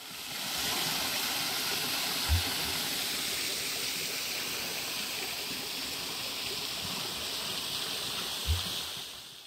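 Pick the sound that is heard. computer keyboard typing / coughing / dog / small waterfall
small waterfall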